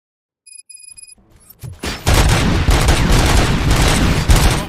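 Heavy gunfire in the RoboCop Rogue City video game: after a few soft tones and thumps, loud, continuous rapid volleys erupt and keep going without a break.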